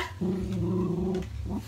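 An angry dog growls steadily at close range, a low sustained snarl lasting over a second before a shorter second growl, with no talk over it.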